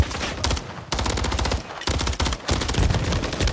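Rapid automatic gunfire in the video game Call of Duty MW3, loud and close, sounding as sustained bursts broken by a few brief pauses, with no talking.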